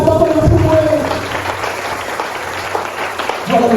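A church congregation bursts into applause and clapping during a service, the burst strongest at the start and swelling again at the end, with a preacher's voice heard over it.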